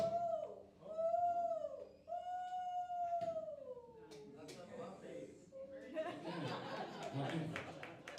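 A person imitates a loon's call with the voice at a live poetry and music event, producing long wavering, gliding tones repeated several times, followed by audience cheering and applause.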